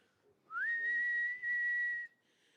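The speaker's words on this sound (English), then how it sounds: "They'll let out a nice whistle." Groundhog's whistle call: one long, clear, steady whistled tone lasting about a second and a half with a brief dip partway, loud against a quiet background, no talking.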